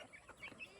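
Chickens cluck softly and intermittently inside a newly built coop made of pallets, tin and chicken wire on a farm, several short calls over low background noise.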